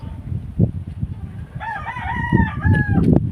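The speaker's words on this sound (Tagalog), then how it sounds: "Ingin ng mga manok." Chickens clucking with a rooster crowing in repeated drawn-out calls over rustling and low background noise, fairly close, outdoors on a windy hillside farm.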